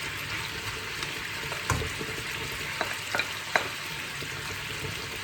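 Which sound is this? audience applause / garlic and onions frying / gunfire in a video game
garlic and onions frying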